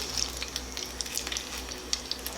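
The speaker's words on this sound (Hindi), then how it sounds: "मैंने अब फ्लेम मीडियम टू लो कर दिया है और इसके ऊपर क्रिस्पी होने तक इसको फ्राई कर रही हूँ" Potato doughnuts deep-frying in oil over a medium-low flame give a faint, steady sizzle with scattered small pops and crackles, with no voices.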